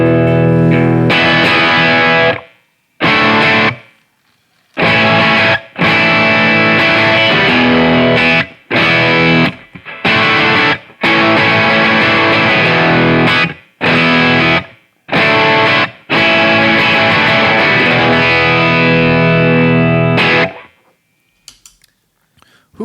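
A Telecaster played through a Lawrence Petross Design Eighty 7 overdrive pedal, giving loud, driven, bright chords and riffs in bursts broken by short silences, with no one talking over them.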